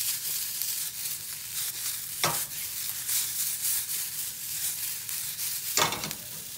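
Vegetables for an omelette frying in a pan, a steady close sizzle broken by two sharp scrapes of stirring, with no talking.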